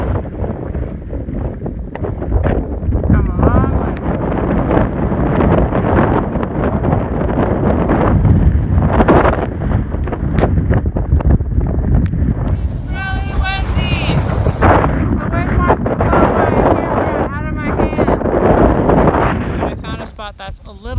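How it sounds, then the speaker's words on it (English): Strong, gusty wind roars and buffets the microphone on the Pacific Crest Trail near wind turbines, a loud continuous rush with surging gusts as a person talks over it. "It's really windy, which I expected since there's a lot of windmills here."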